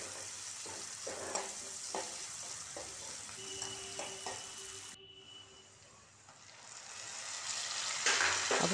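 Cumin, coriander and chopped onion fry in a pan while being stirred, giving a steady close sizzle with scraping clatters, broken by a brief quieter lull before the frying swells louder again.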